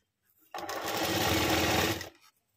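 A sewing machine stitching a fabric strip for the back of a blouse, one steady whirring run of about a second and a half, close and loud, with no talk.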